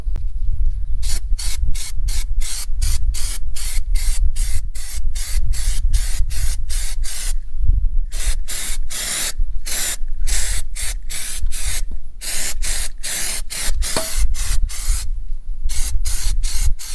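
Undercoating sprayed onto a car's fender area comes as a long run of loud, close, hissing bursts in a fast, uneven rhythm, with no voices.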